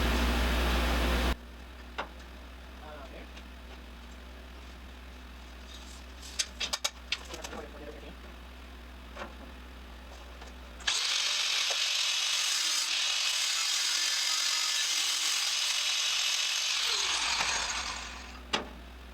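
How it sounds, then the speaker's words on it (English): A cutoff tool cuts into a metal bracket on a rat rod running board build, a loud, high, hissing whir lasting about six seconds. A short burst sounds at the start, with quiet clicks and knocks in between. "You need your cutoff tool?"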